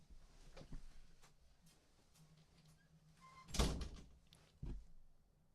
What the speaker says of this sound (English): this boy ain't slamming doors in my house